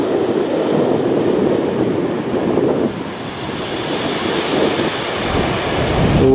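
Steady roar of storm-driven sea surf breaking on Lyubimovka beach, with heavy wind buffeting the microphone throughout.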